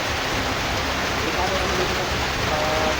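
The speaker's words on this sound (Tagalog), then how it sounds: "Abi na kasi ang ulan mga kaibigan." Heavy rain pours down steadily, a dense, even hiss close by that fills the whole stretch without letup, with no one talking over it.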